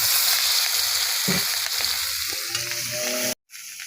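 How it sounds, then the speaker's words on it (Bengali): Hilsa fish head dropped into hot oil for cooking, a steady loud sizzle and crackle of frying that fills the clip, briefly cutting out near the end before resuming. "এই মাছটা তেলের মধ্যে ছেড়ে দিলাম"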